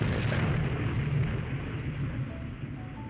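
Naval torpedo explosions in the Rule the Waves 3 battle game, a heavy low rumbling blast that rolls on and slowly fades over about three seconds, alone with no talk.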